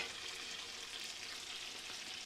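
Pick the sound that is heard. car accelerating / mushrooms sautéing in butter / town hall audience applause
mushrooms sautéing in butter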